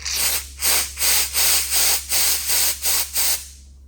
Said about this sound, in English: I'm gonna blow through the brake line from the front to the rear and see if it's clear.